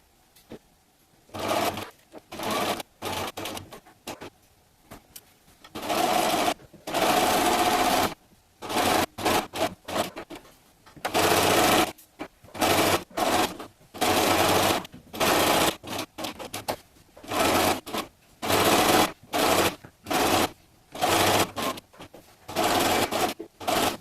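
A sewing machine runs in short, rapid bursts of stitching around a fabric fall placemat, each whirring run separated by brief pauses, loud and close throughout.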